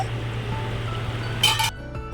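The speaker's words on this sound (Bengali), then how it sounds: "এবার আমি ঢাকা দিয়ে দিলাম এবার ঢাকাটা খুলে দিলাম দেখি কত দূর হয়েছে" A lid is lifted off a pot of hilsa simmering in mustard sauce, giving one short, bright metallic clatter near the end over a steady low kitchen hum.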